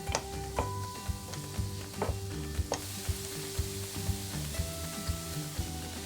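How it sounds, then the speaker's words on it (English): Garlic stir-fries in oil in a pan, a steady close sizzle broken by light scraping and tapping of a utensil against the pan. "Continue to stir fry, but be sure not to burn them."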